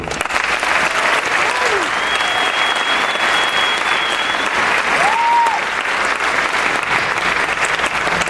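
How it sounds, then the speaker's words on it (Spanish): Sustained, loud audience applause fills a jazz concert by a quintet, steady throughout with a few faint voices and whistle-like tones rising above the clapping. "Otra vez, maestro Teo Chavarella, Arián, un fuerte aplauso."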